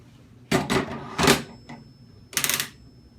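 The barrel of an M240B machine gun is seated into the weapon in three sharp metallic clacks, the middle one doubled, close and distinct against a quiet background.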